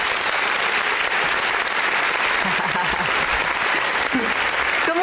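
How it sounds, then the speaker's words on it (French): Television studio audience claps to welcome a yoga teacher named Gandhi, a continuous, even burst of applause sustained for several seconds, with faint voices underneath. "On l'applaudit!"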